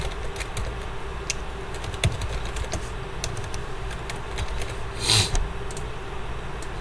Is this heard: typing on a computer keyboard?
yes